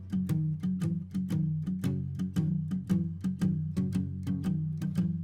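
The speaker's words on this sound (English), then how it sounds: "it all started with this acoustic guitar right here. This is a Martin guitar." Martin acoustic guitar strummed in a blues shuffle, evenly spaced bright strums over a bassy lilting pulse, close and fairly quiet, no voices.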